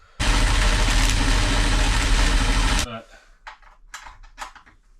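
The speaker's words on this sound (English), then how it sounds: "What I'm going to do now is bore out these holes to fit the M6 rev nut" A power drill bores holes in steel to fit an M6 rivet nut on a Coaster bus conversion, a loud steady grinding roar for nearly three seconds, then stopping into quieter clatter and knocks.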